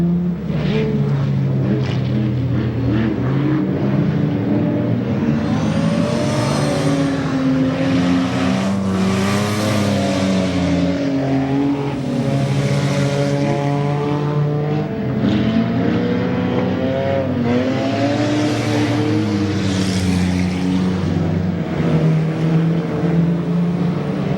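Race cars roar around the Goods Raceway enduro track, engines droning loud and continuous with shifting pitch as cars pass and chase one another, a public-address announcer talking over the steady racing noise.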